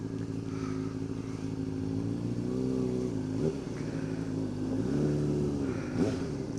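A 2007 Honda CBR600RR motorcycle rides along a road, its engine note holding steady with small rises and dips in revs and shifts, heard continuously from the rider's position with wind noise.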